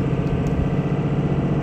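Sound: truck engine running with the turbo not engaging

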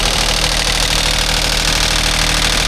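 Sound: small excavator engine running

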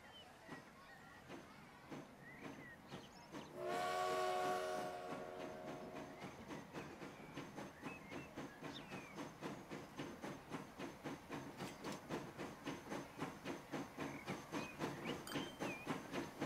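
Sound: train running in video game Transport Fever

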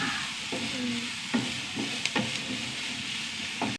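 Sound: onions sautéing and sizzling in pan

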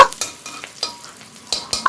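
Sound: chopped capsicum frying and being stirred in a pan

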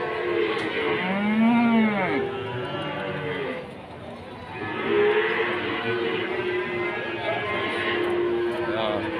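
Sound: cattle mooing

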